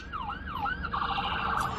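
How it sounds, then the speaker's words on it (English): An ambulance siren wails in a rising and falling sweep on the road, growing louder and steadier as it nears, with no talking over it. "ambulance coming with its lights on"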